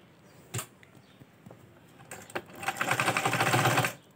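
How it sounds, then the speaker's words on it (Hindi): A sewing machine bastes lining onto a kurti, starting with a few isolated clicks, then breaking into a rapid rhythmic stitching run that builds and stops abruptly. "अब हम कच्चा टांका करके इसको अटैच करेंगे।"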